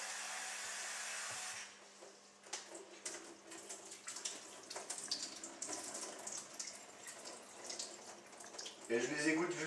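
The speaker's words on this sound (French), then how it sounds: "je mets un peu d'eau froide." Cold water runs from a tap over mushrooms, first as a steady rush, then as an uneven splashing stream with bursts of spray and a louder gush at the end, with a voice speaking in the background.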